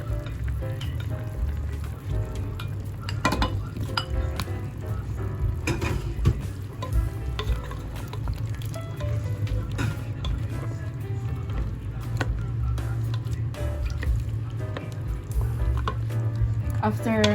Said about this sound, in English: And now I gonna put the potato, the sliced potato.